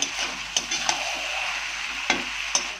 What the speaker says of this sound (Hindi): बीच बीच में ढक ढक के भूंजेंगे, चिकन भी पक जाएगा, मसाला भी भून जा जाएगा।